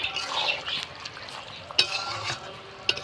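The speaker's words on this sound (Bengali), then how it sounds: "ভালো করে নাড়াচাড়া করে আমি নামিয়ে দেবো।" A spoon stirs chicken curry with garam masala in a cooking pot, scraping in uneven strokes with a few sharp clanks against the metal over a soft background sizzle.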